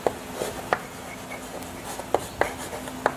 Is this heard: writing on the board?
yes